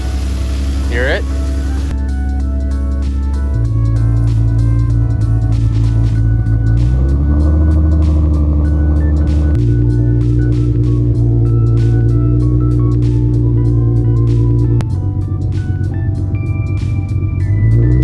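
An Infiniti G35 engine runs after a tune with a steady, droning idle and layered low humming tones. The note shifts slightly in pitch a few times and stays loud and close throughout.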